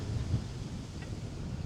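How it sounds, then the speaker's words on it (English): Wind buffets a hilltop wood yard in a low, steady rumble of gusts, with no other sounds standing out. "obviously you guys can tell it's windy"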